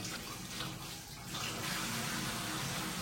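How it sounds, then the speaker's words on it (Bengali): Water runs steadily from a tap at close range as leaves and other items are washed, a constant rushing splash that grows slightly louder partway through. "ভালো করে জল ছেড়ে দিয়ে সব কিছু ধুয়ে নিতে পারো"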